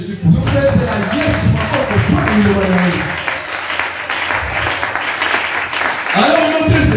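Church congregation breaking into loud, dense applause and cheering, sustained for several seconds, with a preacher's voice speaking over it at the start and end.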